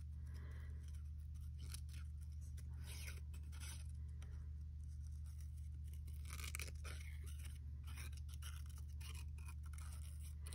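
Quiet, close snipping and rasping of scissors cutting paper, a run of short cuts over a low steady hum.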